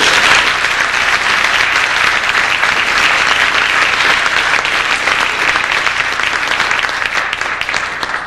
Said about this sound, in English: So round of applause for us.